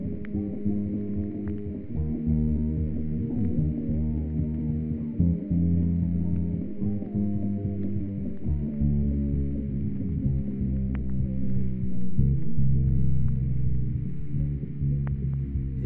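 The intro of a song, slowed down far enough to reveal another song hidden within: a low, droning band mix with smeared chords and steady, continuous sustained tones.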